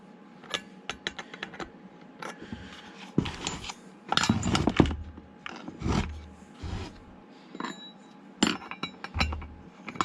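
Socket and wrench working on a Stihl MS 170 chainsaw engine during reassembly, close metallic clinks and ratcheting clicks in irregular clusters with brief handling knocks between them.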